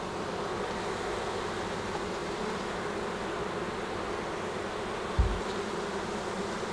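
Honeybees buzz at an apiary hive in Quebec, a dense steady drone that fills the air with one brief thump near the end and no talk.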